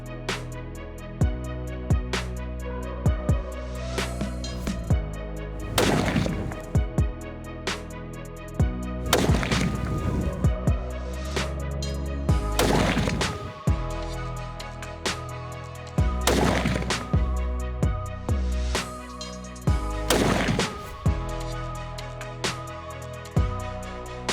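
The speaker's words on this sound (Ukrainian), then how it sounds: "100 метрів. 5 пострілів." Five sharp shots from a Sig Sauer Cross PRS rifle at 100 metres ring out a few seconds apart, each with a brief echo, over a steady tonal background.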